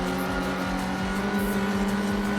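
Peugeot and Subaru rally cars race in Gran Turismo 4, their engines droning loud and steady with a pulsing, throbbing note and no voices over them.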